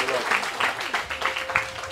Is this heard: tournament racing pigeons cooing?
no